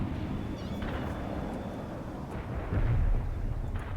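A laser-guided bomb strike in the real-time strategy game World in Conflict lands as a single low, muffled thump and rumble from afar, rising briefly out of a faint, steady battlefield hiss.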